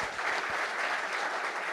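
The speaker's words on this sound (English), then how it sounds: "May I request you all to please give a round of applause for all three of them." An audience at a panel discussion applauds, a steady burst of clapping filling the room, loud and continuous with no talk over it.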